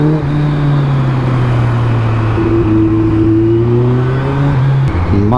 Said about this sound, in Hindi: आज छुट्टी है यार, इतना ट्रैफिक फिर भी